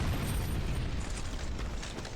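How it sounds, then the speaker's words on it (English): Explosion in Dark Souls 2: Scholar of the First Sin, a heavy, rumbling boom that hits loud at once and then rolls on as a dense, slowly fading roar. "I heard an explosion and I'm afraid to turn around"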